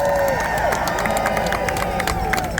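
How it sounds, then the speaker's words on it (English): Crowd of Alzheimer's advocates at an outdoor rally outside the White House, applauding and cheering in a steady, dense wash of clapping and voices that holds loud for the whole stretch. "Give yourselves a big round of applause for daring to be here."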